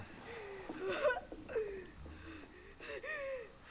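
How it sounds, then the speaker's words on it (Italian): A character in the horror video game The Devil in Me gasps and wheezes through an asthma attack, with several sharp, strained breaths at close range and no talking. "Ho un attacco d'asma."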